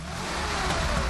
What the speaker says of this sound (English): Listening to the sound of the six-cylinder boxer engine is a treat in itself.